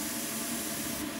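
Spray paint hisses steadily and close up as a model railway wagon gets its bauxite brown coat, a continuous airy rush with no pauses.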